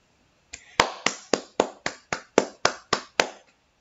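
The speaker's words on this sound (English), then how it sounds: "so let's clap" Eleven crisp hand claps close to the microphone in a steady, even rhythm in a quiet room, each sharp slap ringing briefly.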